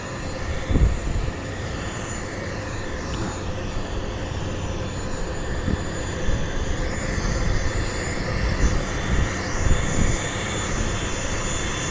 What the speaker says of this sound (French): Voilà, donc l'avion il est là.